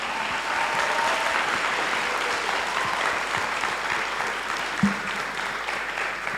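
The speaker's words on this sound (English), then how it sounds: "Can we all give him another round of applause?" Sustained audience applause for a guest speaker after his performance, a steady dense wash of clapping from a crowd filling the whole stretch with no voices over it.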